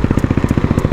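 A KTM ADV 390 single-cylinder motorcycle engine runs close by with a fast, even, thumping pulse and a steady low rumble.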